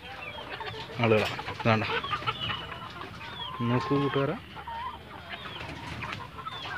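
Chickens in a poultry flock cluck loudly and close in several short bursts, while someone talks over them.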